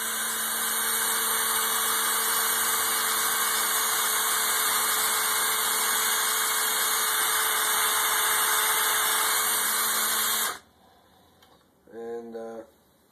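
A motorcycle caliper star head bolt being buffed to strip its anodizing, a steady high power-tool whine that runs loud for about ten seconds and then cuts off, followed by a brief softer burst.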